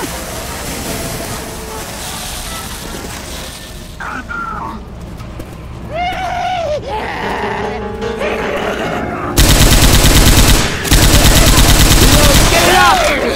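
Gunfire in the video game Left 4 Dead 2: loud, dense bursts of automatic fire that build through the clip and peak in a sustained barrage near the end, mixed with game effects and shouts.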